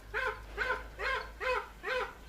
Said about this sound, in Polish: Mały jak zwykle najwięcej szczeka, no ale już przestał.